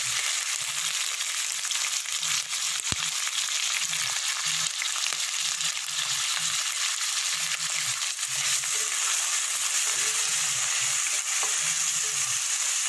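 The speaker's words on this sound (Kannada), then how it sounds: "ಟೊಮೊಟೊ ಈರುಳ್ಳಿ ಎಲ್ಲ ಫ್ರೈ ಆಗಿ ಎಣ್ಣೆ ಬಿಡ್ತಾ ಇದೆ" Chopped tomatoes and onions fry in oil in a pan for a mushroom curry, a steady bright sizzle throughout with faint soft scraping of stirring underneath.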